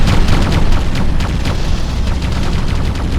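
A loud, rumbling, crackling blast as a structure is destroyed in Ground Control, with a dense wash of small detonations and gunfire-like pops sustained throughout and no talk.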